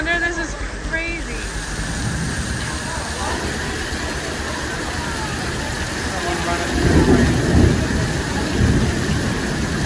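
Steady rain falls while a deep thunder rumble builds toward the end; a voice speaks briefly at the start.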